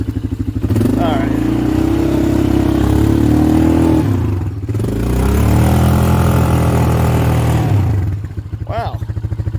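A Polaris 425 four-wheeler engine revs hard while riding, roaring loud and close, swelling and dropping with throttle changes and briefly easing off twice.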